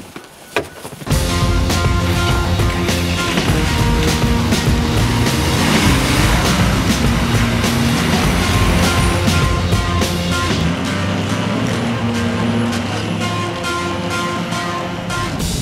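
A giant diesel truck engine drives through snow around Tahoe, a loud, continuous, close rumbling roar that holds steady for the whole stretch after a brief quiet start.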